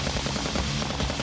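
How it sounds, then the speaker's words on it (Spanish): Unsilenced gunfire in a reenacted military operation crackles as a dense, loud burst of rapid shots, continuous for about a second with no pauses. "Fueron los primeros disparos no silenciosos."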